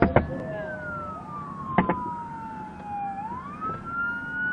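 A police car siren wails up and down continuously, fairly close, as the car runs to a hospital, with a couple of sharp blasts near the start and traffic rumble underneath.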